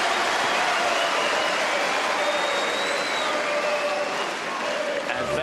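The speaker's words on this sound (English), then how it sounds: "Well, that's brought the crowd to life." Tennis crowd at a 2012 Melbourne third-round match breaking into loud, sustained applause and cheering that fills the whole stretch, a dense steady roar with no pause.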